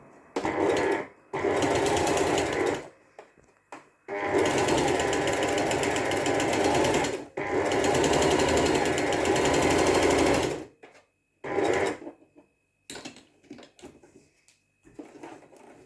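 A domestic sewing machine fitted with an even-feed walking foot stitching knit jersey fabric, loud close rapid motor whirring in several long runs broken by pauses and short bursts.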